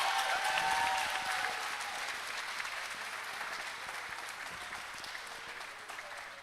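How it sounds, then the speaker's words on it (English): Audience applause at a Barbados Labour Party constituency meeting in St. Michael South, a sustained crowd of clapping hands that starts strong and gradually thins, with a faint hum underneath. "Give her another round of applause, ladies and gentlemen."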